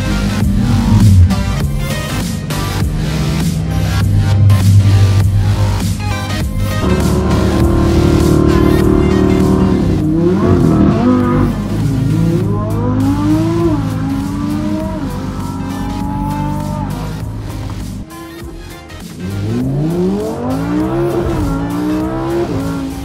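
A Lamborghini race car at speed on a circuit at Goodwood Festival of Speed, its loud engine revving up and down through repeated gear changes, with tyre squeal and a roaring pass lasting throughout.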